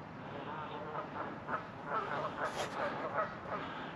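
Geese honk and quack in the background at a marina on a November evening, several calls scattered over steady outdoor ambience, moderately distant.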